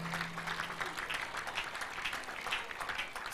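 A church congregation claps at a prayer service in Abuja, dense, even applause carrying on steadily throughout at a moderate distance, with little talk over it.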